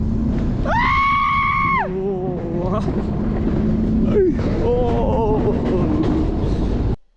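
Riders scream on a steep mountain ride track at Shahdag Mountain Resort in Azerbaijan: one long, loud, sustained shriek, then shorter wavering yells, all over a steady rattling rumble of the moving ride that cuts off abruptly at the end.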